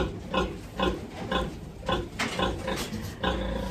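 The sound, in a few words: sow grunting, calling her piglets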